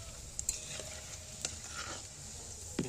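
Banana fritters fry gently in oil over a low flame, a soft continuous sizzle with a few small pops and the occasional scrape of stirring.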